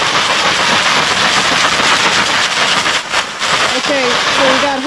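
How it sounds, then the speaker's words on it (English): Heavy rain and hail pound a tent in a dense, loud, continuous roar, with a person's voice breaking in briefly near the end. "That's like a hailstorm."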